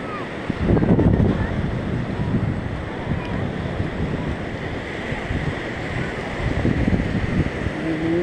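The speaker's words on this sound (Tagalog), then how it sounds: "Sa lakas ng alon na yan, isda kaya makuha to?" Strong sea waves surge and break along the shore at Patar, Bolinao, Pangasinan, with gusting wind buffeting the microphone in a steady, loud roar throughout.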